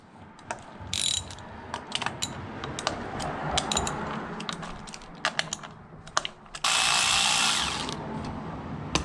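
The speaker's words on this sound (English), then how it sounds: "next up we'll remove the coil packs. They're just 10 mils." A ratchet loosening the 10 mm coil pack bolts on a Honda S2000 during a valve cover gasket job, with bursts of quick close clicking and two longer stretches of continuous ratcheting, plus scattered metallic clinks.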